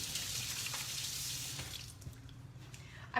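Kitchen sink tap running steadily for hand washing, a close, even hiss of flowing water that thins near the end, with a brief clatter at the close.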